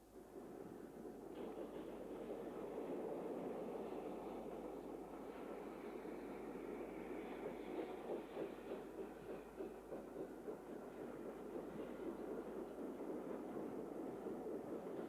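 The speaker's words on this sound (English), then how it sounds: "Having coupled onto its empty stock train, 60118 departs towards Neville Hill." Class 60 locomotive 60118 pulling an empty stock train out of Leeds station toward Neville Hill, a faint steady rumble of diesel engine and rolling wheels with soft clattering throughout.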